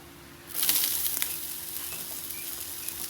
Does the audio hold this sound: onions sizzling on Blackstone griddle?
yes